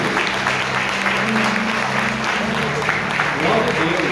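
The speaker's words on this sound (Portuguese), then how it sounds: "Vamos dar uma salva de palmas à irmã Ângela." Congregation at an Assembly of God harvest-festival service applauding a sister, dense loud clapping mixed with murmuring voices and a held musical tone, continuous and close.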